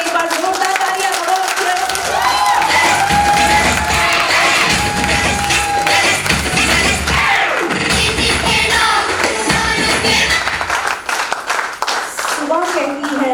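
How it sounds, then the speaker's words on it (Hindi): A large crowd at a Benefit Plus Family retreat festival clapping and cheering loudly, with shouts, whoops and excited voices layered over dense applause for many seconds. "तो जोरदार तालियां होनी चाहिए बेनिफिट प्लस फैमिली के लिए। एक बार जोरदार तालियां करो।"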